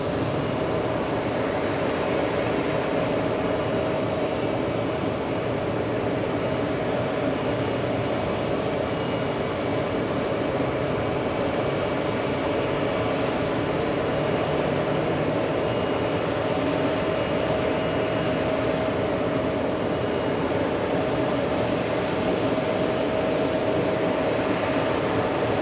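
A jet airliner takes off from runway 22 right at JFK Airport on a hot summer day, its engines producing a loud, sustained roar with a steady high whine throughout.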